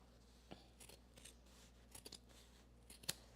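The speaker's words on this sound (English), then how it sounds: "I'm trimming down this facing now" Scissors trimming fabric facing during a timed sewing session, producing a series of soft, close snips that come in small clusters, with a sharper cut near the end.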